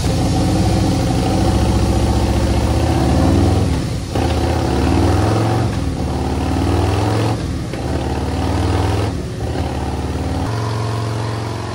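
Harley motorcycle engine running lean, a loud, close, low throbbing idle with a lumpy rhythmic pulse and a few brief dips where the throttle is blipped.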